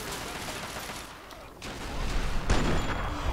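Bozar light machine gun fire in Fallout 3, rapid bursts of shots rattling over a noisy combat scene, growing louder toward the end.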